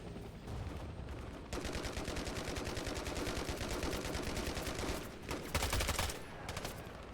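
Gunfire in the console video game Hell Let Loose: Vietnam, a sustained rapid automatic burst that rolls on for several seconds, dense and steady, with heavier booming shots near the end.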